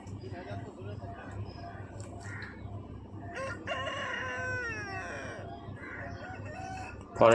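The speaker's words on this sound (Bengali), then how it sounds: "পরে একটা দেখছেন দুর্দান্ত মোরগ" At a Feko Haat poultry market in Jhargram, West Bengal, a rooster crows once with a clear, fairly close, drawn-out call over the busy hum of the market, while people talk nearby.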